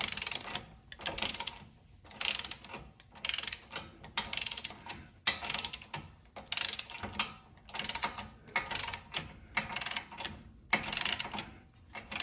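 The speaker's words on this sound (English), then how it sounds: "And then we're going to torque it down." A torque wrench ratchets a tie rod end nut tight on a Honda CR-Z, giving repeated rhythmic clicking bursts in steady strokes, close and fairly loud, with no talking.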